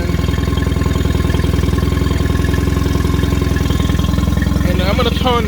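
A Mercury 20 HP outboard motor runs with a steady, loud, close mechanical chug and clatter, holding an even idle-like rhythm throughout.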